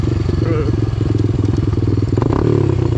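A 2006 300EX ATV engine running steadily off-road, a loud, close, low throbbing drone with rattling and clatter layered on top, continuous for the whole stretch.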